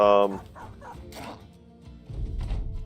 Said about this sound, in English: And I think we'll release our dogs.